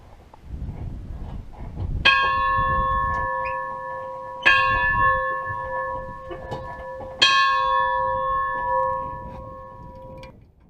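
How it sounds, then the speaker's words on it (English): A bell hanging high in an abandoned farm building rings three times at even spacing, each loud clear strike leaving a long resonant ringing tail in the strange, echoing acoustics. "I don't know if you can see it, but there's a bell up the top there"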